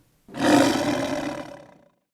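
A lion roars once, loud and close, a single deep rasping roar lasting about a second and a half before trailing off into silence.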